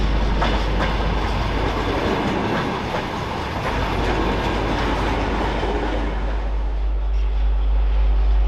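A train at a crowded railway station platform in Ukraine, where people are fleeing the war: a loud, continuous rumble with clattering wheels and a broad hiss that eases slightly toward the end.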